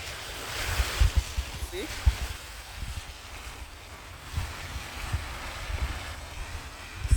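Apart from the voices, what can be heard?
heavy rain pouring in Kingston, Jamaica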